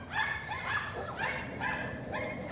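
Several neighbourhood dogs bark and yip in overlapping, continuous bursts, steady and fairly close, with no talk over them.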